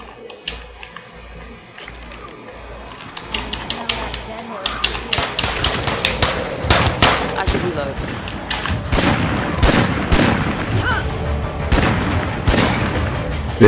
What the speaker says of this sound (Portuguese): Deixa eles atirar, eles estão de ponto 50.